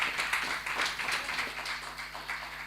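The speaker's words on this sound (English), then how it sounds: "Give them a round of applause." Audience applause at a hybrid lupus symposium as a panel concludes, a steady wash of many hands clapping in a hall, moderately loud and sustained throughout.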